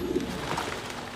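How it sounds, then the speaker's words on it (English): Pigeons coo in the video game Assassin's Creed, a short, soft, low warbling call close by over a steady ambient game background, with no speech. "Birds."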